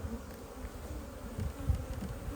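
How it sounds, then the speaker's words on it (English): Honey bees buzz in an open hive full of young bees, a soft, continuous hum up close with faint handling noises. "Lots of bees in here, a lot of young bees too."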